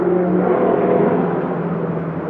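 A car engine revving loudly close by, a dense steady roar that eases off slightly near the end, heard alone without talk.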